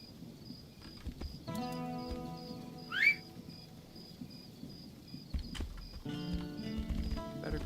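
Horse hooves clip-clop at a steady walking rhythm in the Tainted Grail: The Fall of Avalon video game, mixed with ambient insect-like chirps and a brief high whinny-like call partway through.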